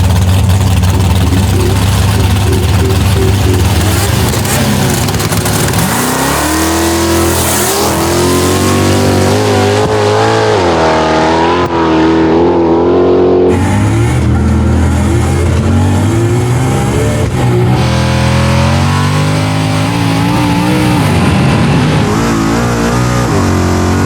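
An R32 Nissan Skyline GT-R and a 1000hp Holden LH Torana roar down a drag strip, their engines loud and close and revving hard through rising and falling gear changes, with announcer-style talk mixed under the noise.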